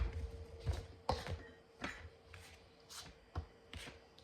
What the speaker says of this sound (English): let's get our pastry blender and just start cutting it in and mixing it in